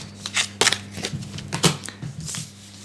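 Tarot cards being shuffled by hand, a close run of crisp riffling bursts and soft slaps in uneven rhythm, with a low steady hum underneath.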